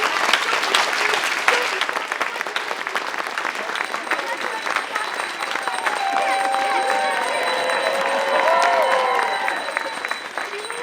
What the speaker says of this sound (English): If you believe in Tink, clap your hands.